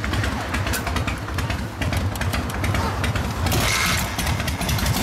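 A Harley-Davidson Softail motorcycle engine runs steadily at idle with a low, loping rumble, close and loud, while people talk over it.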